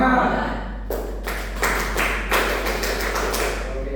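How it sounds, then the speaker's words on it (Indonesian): Indonesian scouts doing the rhythmic tepuk pramuka clap, a group striking sharp, loud claps in distinct bursts after a spoken opening, with a steady low hum beneath. "Nanti diakhiri dengan tepuk pramuka."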